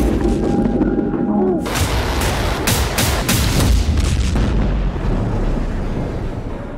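Explosions in Beirut: a loud run of heavy booming blasts that hit repeatedly over a few seconds and then fade into a rumbling, noisy aftermath.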